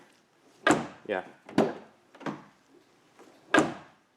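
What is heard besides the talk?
car door closing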